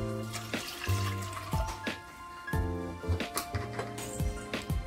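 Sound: water poured into a pressure cooker with moong dal

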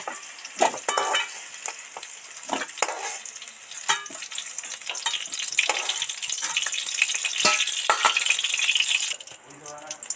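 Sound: potatoes frying in oil with whole spice tempering

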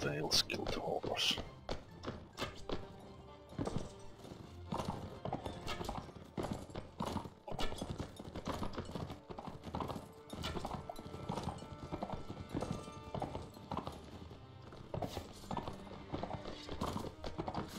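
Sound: horse hooves galloping in Mount & Blade Warband video game

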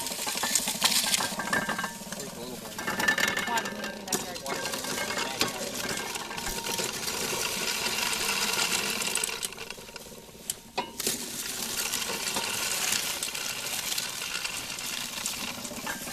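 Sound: Hocking Valley corn sheller running

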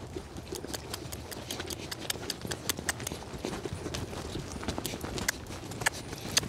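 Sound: horse loping, hooves clip-clopping

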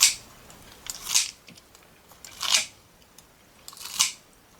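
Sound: scissors cutting blanched Solomon's seal shoots

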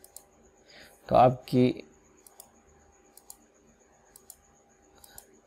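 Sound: computer mouse clicking the register button

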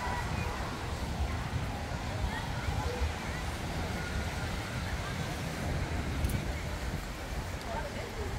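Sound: wind blowing at the beach

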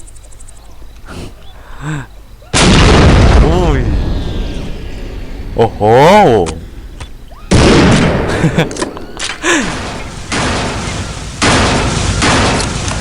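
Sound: explosion in a video game

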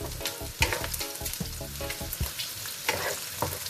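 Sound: garlic sautéing in a pan

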